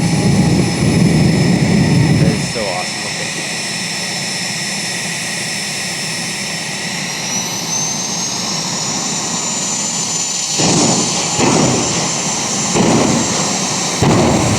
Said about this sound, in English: It's basically just straddling a jet engine.